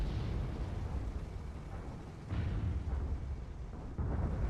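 Armor shots fired by airships during a team battle in a video game: heavy booming blasts and bursts roll one into another, loud and dense across the whole stretch, with no voices.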